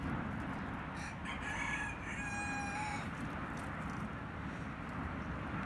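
A rooster crowing once, a drawn-out cock-a-doodle-doo rising and falling over steady background noise, moderately distant and faint, with no talk.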